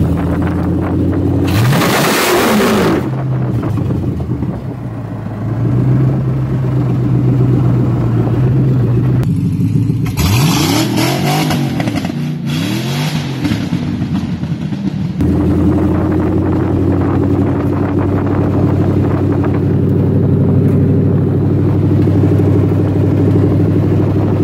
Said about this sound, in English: nothing but wheel spin everywhere.